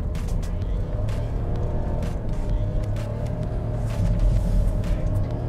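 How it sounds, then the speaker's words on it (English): Nissan Kicks e-POWER VL (2023) with its three-cylinder engine running, a steady low rumble with a slight swell toward the end and no talk over it. "now let's listen to the engine. I hope you can hear it."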